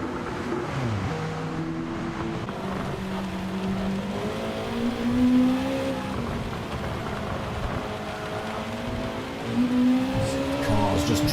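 Super GT race cars, a Lexus among them, run on a track with engines droning and shifting pitch as they pass, medium-loud and continuous, with some crowd or ambient wash underneath.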